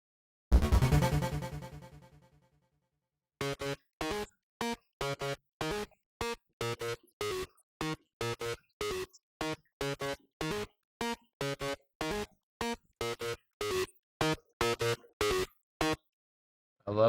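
A harsh, distorted synth tone stabs in short, rhythmic bursts with gaps between, after an opening swell that decays away.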